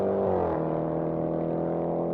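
Porsche Cayenne Turbo in a drag race against a Range Rover SVR, engine droning steadily at high revs with a rising pitch shift early on, close and loud with no talking.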